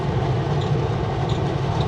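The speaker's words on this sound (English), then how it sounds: "Oh, look, there's a train right there." A freight train loaded with potash rolls past close by in a steady, loud rumble with faint clickety-clack and a few light squeals.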